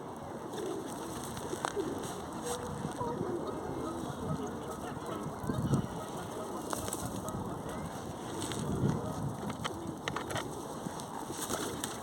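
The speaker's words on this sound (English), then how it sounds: "I've just bought some seeds down for the pigeons on Stanley Park" Pigeons flock for scattered seed in Stanley Park, a busy outdoor murmur of soft coos and occasional wing flutters over steady background ambience, with brief louder bursts.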